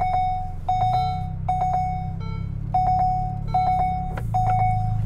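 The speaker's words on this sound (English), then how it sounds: "a huge number of warning klaxons and bells and whistles going off all the time" Warning chimes in a Ferrari Roma sound during a quick reverse manoeuvre, repeated bursts of a bright electronic beep in irregular clusters over a low steady engine hum, close and clear, with no talking.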